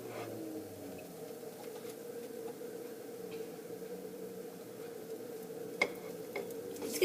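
Banana pancake batter sizzles softly in a hot frying pan, a faint, steady crackle with occasional small ticks, no talking over it.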